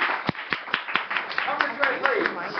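At an intimate living room concert in Evansville, a small group claps in sharp, spaced bursts, then the clapping loosens as voices begin chattering over it.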